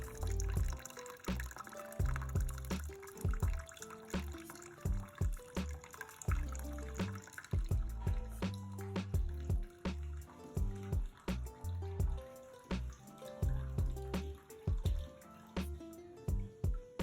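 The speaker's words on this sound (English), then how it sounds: "the water refilling the toilet tank starts to sound softly" Water trickles slowly into a toilet tank after a flush, the refill hampered by a rubber valve stuck in place. Steady, close dripping and gurgling runs continuously with uneven pulses, alone and without talk.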